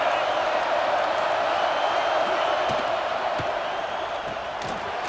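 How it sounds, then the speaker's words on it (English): Stadium crowd in the video game College Football 26 roars in a steady, loud wash of cheering throughout, with a commentator's voice talking over it. "This crowd knows this defense needs them right now."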